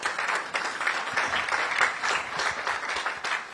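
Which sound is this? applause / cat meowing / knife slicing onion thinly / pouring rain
applause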